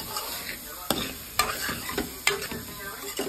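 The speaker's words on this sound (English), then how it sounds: "Let that rice stir fry real good, okay?" Rice stir-frying in a pot for Puerto Rican shrimp asopao, a close steady sizzle punctuated by sharp scraping clacks of the spoon stirring against the pot, roughly every half second.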